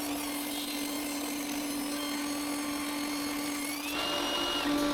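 A power tool cuts pieces of linden wood, a steady whining drone running the full length with a shift in pitch near the end, loud and close with no talking.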